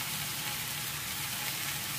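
Tomatoes fry in oil in a pan with a steady, close, dense sizzle that holds evenly throughout and has no voices over it.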